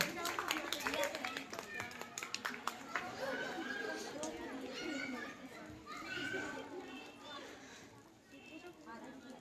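Children at a Ramayana quiz event clap together for a child, a burst of quick, uneven claps up front fading into lively chatter and children's voices that fill the rest of the room.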